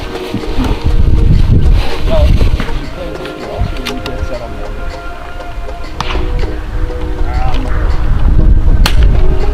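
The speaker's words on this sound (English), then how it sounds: "Ooh, the wind picked up at the end." Gusty wind buffets the microphone at an outdoor rimfire rifle shooting match, a loud, steady rumble that swells toward the end while people talk over it.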